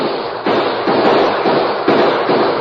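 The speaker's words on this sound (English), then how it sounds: "There was a quick exchange of gunfire." A short burst of noisy, broadband cracks, loud and close, with a few sharp onsets in quick succession, a gunfire exchange in a 1944 Lone Ranger radio drama.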